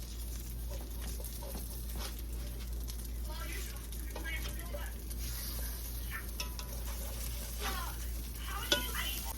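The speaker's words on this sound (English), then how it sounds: "Now it's time to flip the first batch of eggs." Eggs frying in a pan for a sandwich, with a steady close sizzle and occasional scraping clatter as they are flipped.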